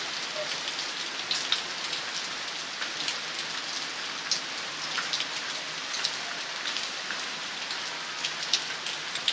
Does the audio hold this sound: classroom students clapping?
no